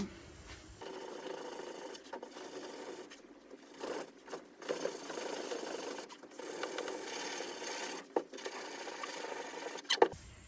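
Wood furniture is sanded by hand in repeated rasping back-and-forth strokes, close by, with brief pauses between bursts of scraping and no talking.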